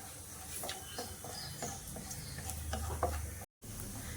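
Cashews roasting in melted ghee in a pan for chicken biryani, a soft continuous sizzle with light stirring and scraping clicks, fairly quiet, with a brief dropout near the end.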